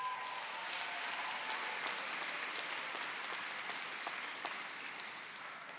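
Commencement audience applauding award finalists, a sustained wash of many hands clapping at moderate distance, fairly even throughout and tapering slightly at the end, with no speech.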